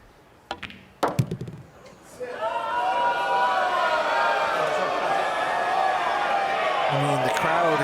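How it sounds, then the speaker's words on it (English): At a pool match, a few sharp clacks give way to a sustained swell of excited crowd noise that holds steady and loud until the end. "I mean, the crowd are getting excited."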